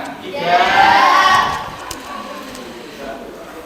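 A classroom group clapping and cheering, a loud burst of applause and shouts that swells and then fades into lighter chatter.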